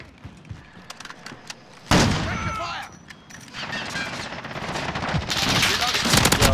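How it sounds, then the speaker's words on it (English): An M13 assault rifle fires in bursts in Call of Duty Modern Warfare multiplayer, sharp rapid automatic shots that begin after a quieter stretch of scattered pops and grow denser and louder toward the end. "This M13 shreds."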